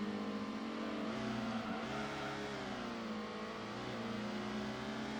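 Racing car engines from the video game Gran Turismo 1 drone loudly and continuously, with pitch rising and falling as the car revs and shifts through several seconds, no talk over it.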